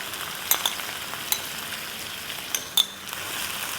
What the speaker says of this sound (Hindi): तो बस इस पॉइंट पर हम डालेंगे दही। तो दही डालेंगे 4 टेबलस्पून भर के।